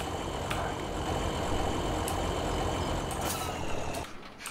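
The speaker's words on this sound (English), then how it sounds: "You hadn't turned your engine off." A vehicle engine idles in Farming Simulator 17, a steady low rumble with occasional hissing bursts that cuts off near the end.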